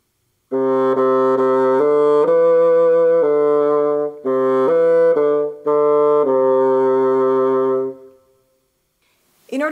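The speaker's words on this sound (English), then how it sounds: "It sounds a little bit nicer when I put it on the bassoon." A bassoon played with its reed attached, sustaining a sequence of rich, reedy notes in a melodic phrase with short breaks between held tones, loud and close, ending in silence.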